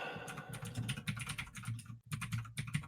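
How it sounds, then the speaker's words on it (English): Rapid computer keyboard typing, close and steady, with bursts of keystrokes broken by a brief pause near the two-second mark, no voices present. "everybody can hear my typing on the keyboard while I look up some information"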